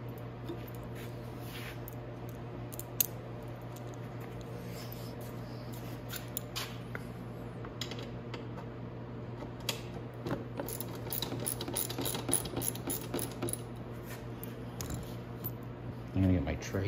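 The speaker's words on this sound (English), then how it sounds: "And you're going to need a 10 mil ratchet to do that. And we're going to just remove the 2 front bolts." A 10 mm ratchet removes the front bolts on a Venom E-Grizzly 1500W electric ATV. Soft clicking and ratcheting comes in short bursts over a steady hum, and a person talks throughout.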